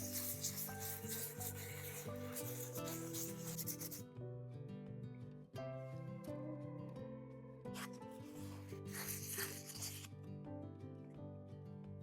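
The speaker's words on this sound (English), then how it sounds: "I have this handheld sander. I just put a small sanding pad on, and I always wet sand." A small handheld sander with a little pad wet-sands a pottery piece, giving a steady motor whine under rough scraping and rubbing that comes and goes in bursts.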